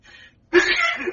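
A single sneeze on a podcast, a faint breathy intake followed by a sharp, loud burst that trails off, heard close and alone.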